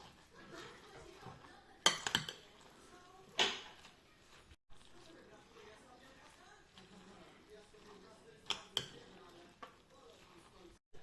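Diced beetroot, courgette, red pepper and onion being stirred together in a bowl or pot for a preserved winter salad, giving a few sharp clinks and scrapes of utensil against dish over quiet background, with talk.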